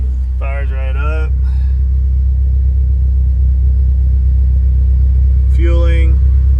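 A JDM Honda S2000 running a Maxxecu engine management unit settles into a steady, loud, low rumbling idle just after starting, with someone talking briefly over the engine noise.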